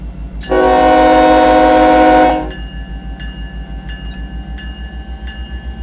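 A locomotive in the Run 8 Train Simulator game sounds a loud, sustained horn blast of about two seconds as it approaches a grade crossing, followed by the steady rhythmic clatter of wheels and a rumbling engine.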